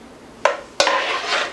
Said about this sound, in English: we're going to put this back into our crock pot base